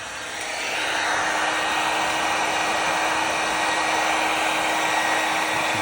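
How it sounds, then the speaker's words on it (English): A heat gun blows hot air onto an M Performance vinyl decal being fitted on a BMW 4 Series, a steady whooshing roar with a constant whine that ramps up in the first second and then holds. "And then, Isaac, can you just put some heat in there for me, please?"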